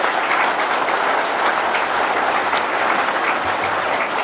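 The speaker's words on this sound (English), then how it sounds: "I'll ask you to join me once again to put a big, big round of applause for everybody and anybody who has made this project a success" Sustained audience applause at a school commissioning ceremony in Fiji, a dense, steady wash of many hands clapping at close range throughout, with no talk over it.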